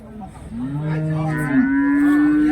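At a crowded cow market, a cow gives one long, loud, close moo that rises and holds steady for about two seconds.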